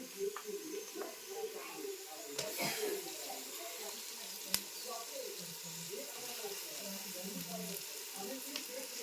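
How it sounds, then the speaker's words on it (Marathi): Raw jackfruit vegetable frying in a pan over a wood-fired stove in a Konkan kitchen, a soft continuous sizzle with occasional clicks and stirring, while someone talks over it. "आता मी भाजी टाकून घेते"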